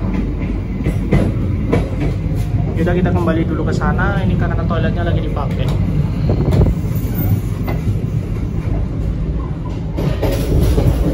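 Inside a moving passenger train carriage, wheels rumble and clatter steadily under a broadband roar with faint metallic squeals, while a person talks over the noise throughout.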